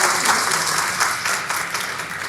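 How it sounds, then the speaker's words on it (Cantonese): Applause from a congregation at a church ceremony marking a new pastor's ordination, a dense steady wash of many hands clapping together, loud and close, slowly easing off. "咁咧，我哋拍掌嘅"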